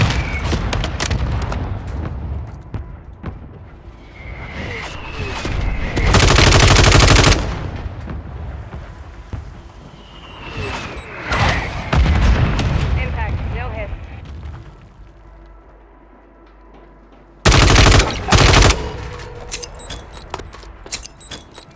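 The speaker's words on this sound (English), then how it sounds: "Mortar strike on the way." In a video game battle, a mortar strike lands amid gunfire: loud bursts of shots and heavy explosive blasts come in waves, with quieter gaps between them and voices talking over parts of it.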